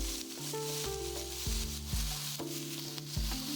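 Onions and carrots hit a pan of browning mushrooms and sizzle steadily, a constant frying hiss running beneath music with stepped tones.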